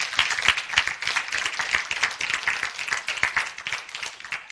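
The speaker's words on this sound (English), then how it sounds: "Let's give them another round of applause." Audience applause closes an addiction and recovery panel evening at HGTC in 2019, a dense, steady clapping from a room full of people that holds for the whole stretch without a break.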